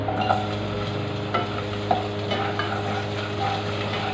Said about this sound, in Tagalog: unahin muna natin ang pagigisa ng onions